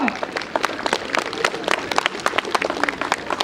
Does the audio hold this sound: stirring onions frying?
no